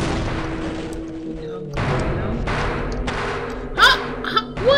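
Grenade explosions in Half-Life: a few heavy, sudden booming blasts arrive with gaps between them, mixed with other game noises and a voice.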